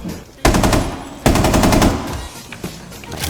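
Rainbow Six Siege gameplay: loud, close machine gun fire in two long rapid bursts, followed by scattered fainter shots and game noise, with no talking.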